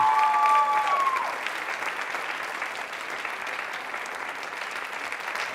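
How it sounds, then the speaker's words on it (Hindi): An audience at a Holi celebration event at MJRP University applauds a dance, a steady wash of clapping that starts loud with a brief tonal sound at the start, then settles slightly quieter and continues evenly throughout. "तालियां बजाइए इनके लिए, आप इस नृत्य के लिए"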